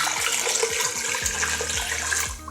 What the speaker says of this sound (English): so we're gonna add some water.